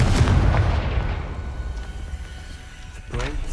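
Confringo spell explosions in the Hogwarts Legacy video game: deep, rumbling blasts that are loudest at the start, then fade into a low roar, followed by a sharp new boom near the end.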